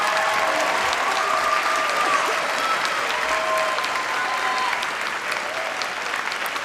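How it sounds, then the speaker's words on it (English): A full audience round of applause at a graduation-style moving-on ceremony, loud dense clapping sustained evenly from start to finish with crowd noise mixed in. "Just stand and let's give them a round of applause."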